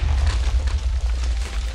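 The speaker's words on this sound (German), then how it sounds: "Jawoll, das war ein schöner Schuss" A cannon shot from a CSV-4 Geschütz in the Minecraft video game: a loud, dull boom that rolls into a sustained low rumble with broad crackling noise above, lasting nearly two seconds.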